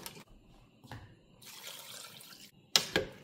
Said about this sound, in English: so I'm going to add more water to it